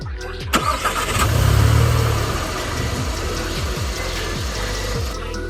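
LEGO motor spinning the drivetrain of a rear-wheel-drive Lamborghini Gallardo model, a steady close mechanical whir that rises briefly then runs on evenly for several seconds.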